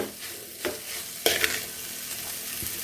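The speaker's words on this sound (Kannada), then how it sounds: "ನೋಡಿ ಎಷ್ಟು ಚೆನ್ನಾಗಿ ಫ್ರೈ ಆಗ್ತಾ ಇದೆ" Sliced okra fries in a pan for a Havyaka Brahmin-style Karnataka dish, sizzling steadily close by. A spoon stirs and scrapes the pan in several distinct strokes over the sizzle.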